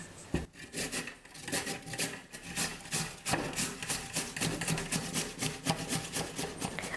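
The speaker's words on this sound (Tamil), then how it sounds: "இப்போ எடுத்துருக்கிற 2 உருளைக்கிழங்கையும் காய் துருவுறதில் துருவி எடுத்துக்க போகிறேன்." Raw potatoes rasped against a vegetable grater in a home kitchen, a steady series of close, scraping strokes repeating in quick rhythm with no talking.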